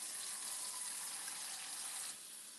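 Tap water runs steadily into a container while measuring water for cooking quinoa, a continuous close hiss that drops slightly in level near the end.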